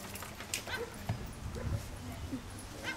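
A dog in protection training gives short yips and whimpering barks at moderate distance, several brief bursts spread across the moment, with people talking nearby.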